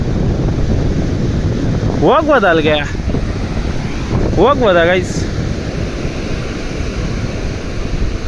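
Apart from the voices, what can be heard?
cool wind blowing at Palolem Beach, Goa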